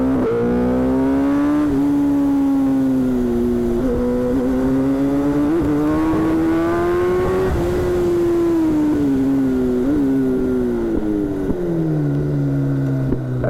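A Kawasaki Ninja ZX10R sportbike of 212 hp revving hard close by, its engine pitch climbing and dropping through repeated surges before settling to a lower tone as it slows.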